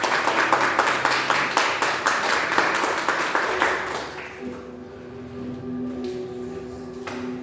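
A church congregation applauds together, a dense steady clapping that swells loud and then tapers off into quieter room tone with faint tones lingering.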